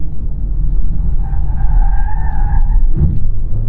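A 2023 Honda HR-V corners hard with understeer as tires squeal in a rising two-tone whine over a heavy road and engine rumble, heard from inside the cabin.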